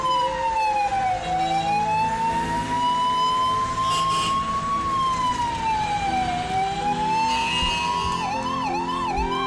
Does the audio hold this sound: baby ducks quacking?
no